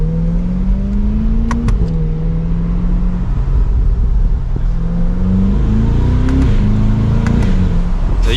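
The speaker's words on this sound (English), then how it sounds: "So you can hear a little bit of that exhaust." A 2023 Chevrolet Corvette C8 convertible 3LT 70th Anniversary edition runs with its exhaust burbling, the engine idling and then blipping up in several short revs, loud and close with a steady low rumble throughout.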